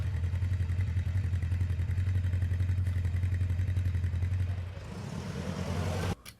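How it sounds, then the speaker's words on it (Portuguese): A quad bike engine runs at a steady, loud, close idle, then its note shifts and roughens near the end before cutting off abruptly. "eu busquei até um sample que ele estivesse ligando o quadriciclo, no caso a moto"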